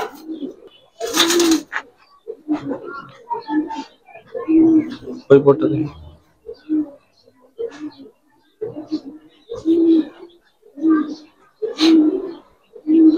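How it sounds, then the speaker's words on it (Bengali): Silver border Giribaz pigeons coo in repeated low, throaty bursts close by, with someone talking between and over the calls. "দেখেন সিলভার বর্ডার একটা কবুতর"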